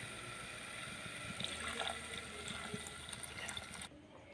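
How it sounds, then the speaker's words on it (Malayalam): Water splashes and pours steadily into a pan while cooking chicken, a faint continuous trickle that cuts off abruptly near the end. "ഇതിലേക്ക് നമുക്ക് ആവശ്യത്തിനുള്ള വെള്ളം ഒഴിച്ചു കൊടുക്കാം."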